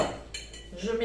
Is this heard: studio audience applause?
no